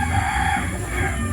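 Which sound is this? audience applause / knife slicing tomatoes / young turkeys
young turkeys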